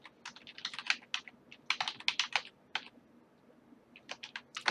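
Rapid clatter of a computer keyboard as an email address and password are typed, bursts of keystrokes separated by short pauses, close and alone.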